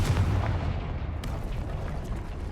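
Confringo fire spell blast from the video game Hogwarts Legacy, a loud low booming burst with a rumbling tail and a brief sharp crack partway through, no voices.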